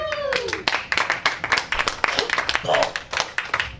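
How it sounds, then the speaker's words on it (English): Scattered clapping from a small audience at a King Serpent Follies evening event, individual claps spiking irregularly and close by while a person speaks over them. "the applause shouldn't be for me, though."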